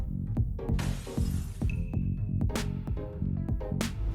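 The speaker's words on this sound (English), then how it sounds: "security at a train station found a glass door was broken" A glass door at a train station shatters loudly, followed by a series of sharp crashes and tinkling shards spread over several seconds.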